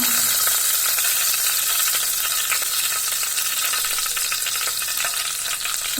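Steady, loud sizzling and crackling of fennel seeds frying in hot oil in a pan, a dense continuous hiss with small pops throughout.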